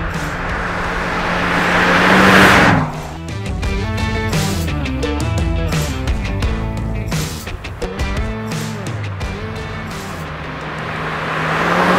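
A 1966 Ford Mustang GT Convertible with a V8 engine drives along, its engine note loud and steady at first, then shifting through a series of rising and falling pitch changes as it works through the gears.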